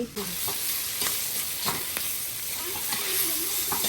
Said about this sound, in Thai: เราจะผัดแห้งๆเลย